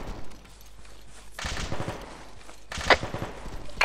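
Gunfire in a military video game, sustained automatic fire in rapid, loud bursts that swell and fade over a few seconds, close and dense, without talking.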